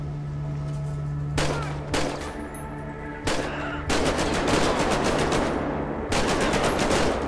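Rapid bursts of automatic gunfire in the video game GTA V, zombie mode, crackle in loud, dense volleys, broken by short pauses over a steady low hum.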